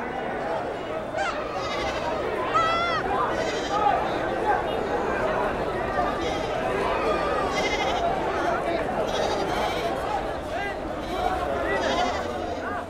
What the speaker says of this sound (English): The goats are presented in a circular arena in the middle of the market, the market version of a catwalk.